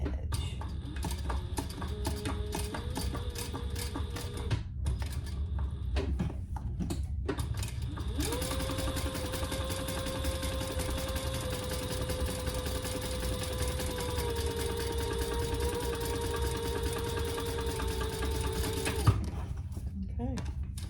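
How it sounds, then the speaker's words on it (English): A home sewing machine topstitches along the curved top edge of a hobo shoulder bag, its steady motor whine running in a short burst and then a long, even stretch, with mechanical ticking between runs. "let's top stitch along that topped curved edge"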